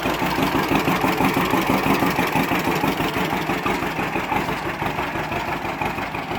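A John Deere Model H tractor's two-cylinder engine runs while the tractor is driven, a steady low chugging with a regular pulsing beat, close and fairly loud, alone without talk.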